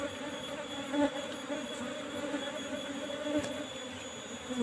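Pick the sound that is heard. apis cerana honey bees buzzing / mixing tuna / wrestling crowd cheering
apis cerana honey bees buzzing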